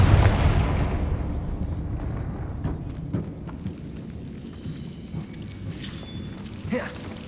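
Fiery blasting spell in Hogwarts Legacy going off as a loud explosive burst at the start, its roar decaying into a long rumbling tail with scattered small crackles.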